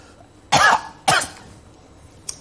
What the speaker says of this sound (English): And that's him coughing.